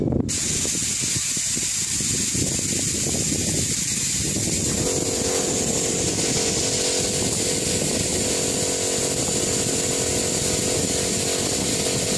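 A compressed air line blows out a microfibre polishing pad from a Meguiar's DA system with a loud, continuous, close hiss that shifts in tone as the nozzle moves over the pad.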